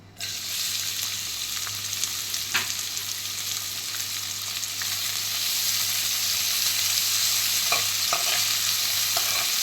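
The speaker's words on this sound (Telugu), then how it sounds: "ఈ ఉల్లిపాయలన్నీ ఒక రెండు మూడు నిమిషాలు బాగా వేయించుకోవాలి" Thinly sliced onions with a little cinnamon and a bay leaf frying in a pan for Andhra prawn curry, a steady loud sizzle with occasional stirring scrapes running throughout.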